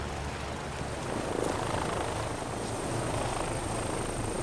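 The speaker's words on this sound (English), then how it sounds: "Chopper's waiting." A helicopter's rotor and engine drone steadily at moderate distance, a faint continuous whir with no speech.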